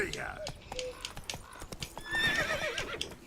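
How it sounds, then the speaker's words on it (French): A horse in The Witcher 3 video game neighs with a shrill whinny amid clip-clopping hooves, fairly faint, with someone talking over it. "Allez, mon cheval."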